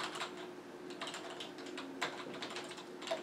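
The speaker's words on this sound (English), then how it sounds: "Let's test the keyboard." Keys on a wireless computer keyboard clack at an irregular pace, close up and moderately loud, with a few sharper taps standing out over a faint steady hum.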